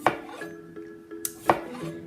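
A knife cuts new potatoes into quarters on a board in a home kitchen, giving a few sharp chopping knocks spaced through the moment, the strongest near the start and middle.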